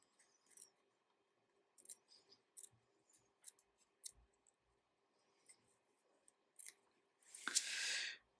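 Scissors snip through a crocheted piece, a run of faint close clicks and small cuts followed by one louder, longer crisp cut near the end, with no voices.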